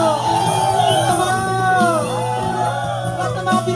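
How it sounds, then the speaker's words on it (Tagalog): At an El Shaddai worship service in Cebu City, a large congregation shouts praise in a sustained, loud collective roar, with rising and falling whoops and yells blending into one continuous crowd sound. "Lahat ng mga pinagpala ay sumigaw!"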